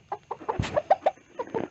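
Several small hard-headed chickens cluck in short, close bursts at a roost, a quick irregular run of clucks filling the moment.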